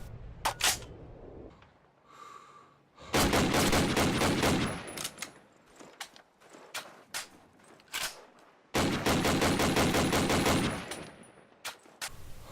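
Rifle fire from the World War II shooter game Call of Duty: United Offensive, a German semi-automatic rifle and the Russian SVT-40: loud sharp single shots and two long ringing bursts of gunfire, separated by quieter clicks and mechanical handling sounds.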